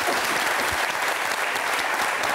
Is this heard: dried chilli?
no